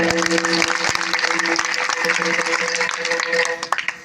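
Villagers clap together at a devotional gathering, a dense and steady burst of applause lasting a few seconds with a faint tonal hum beneath, fading slightly at the end.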